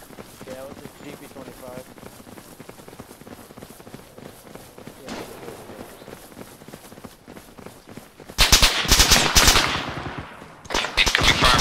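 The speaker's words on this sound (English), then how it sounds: "Incoming fire from the right." Automatic gunfire in the military shooter Arma 3 during an Australian Army patrol, loud bursts erupting late in the clip after quieter movement and footsteps, with voices talking over the action.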